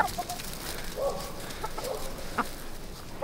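Backyard chickens clucking as their feed arrives, several soft broken clucks and short calls scattered through the moment at moderate volume, close by with no talking.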